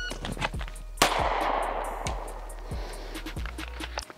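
A single sharp handgun shot on an outdoor range, fired at a target during a timed drill, stands out loud and close, with fainter distant gunfire from other shooters popping before and after.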